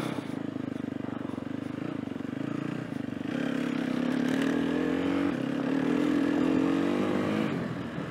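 An enduro motorcycle rides on snow at around freezing, its engine droning steadily and then rising into a louder, climbing rev with some clatter, close to the rider throughout.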